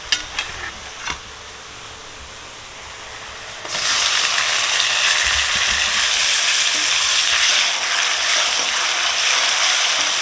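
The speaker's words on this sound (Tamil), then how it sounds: "தக்காளி நல்லா வதங்கட்டும்." Tomatoes sautéing in a pan for chicken curry: a few quiet clinks, then the sizzle jumps up loudly as the tomatoes go in and holds as a steady, bright frying hiss.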